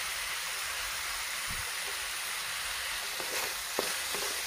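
Tomato and onion chutney with turmeric and salt is stirred in a hot pan, giving a steady faint sizzle with a few soft scraping strokes of the spoon near the end.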